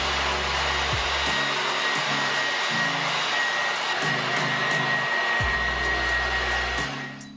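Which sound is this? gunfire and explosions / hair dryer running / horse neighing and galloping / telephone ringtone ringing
hair dryer running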